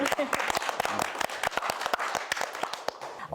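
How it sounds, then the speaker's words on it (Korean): An audience claps steadily at a Korean music variety show taping, with dense, sharp hand claps in a close, continuous burst that holds its level throughout. "이대로 박수 한번 쳐줘."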